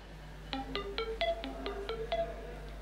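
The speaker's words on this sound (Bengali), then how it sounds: "আমার একটা ফোন এসেছে" An electronic phone ringtone of quick melodic beeps sounds for an incoming call during a drama scene, moderately quiet over a low background hum.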